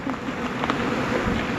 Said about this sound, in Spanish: Abejas saudíes.